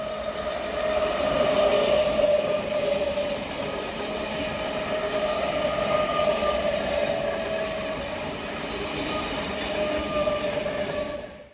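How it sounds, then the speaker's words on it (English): A Sydney Trains V set, an old four-car electric train, rumbles past at close range in a continuous roar with steady rail and wheel noise and no voices. "The next train type that appeared after 7 AM was the V set."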